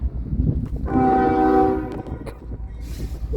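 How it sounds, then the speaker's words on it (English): A CSX locomotive leads a short local freight train toward a spur, sounding a loud, steady multi-tone horn blast over the rumble of the passing train and wheels. "Locomotive was actually just a short train coming to the spur."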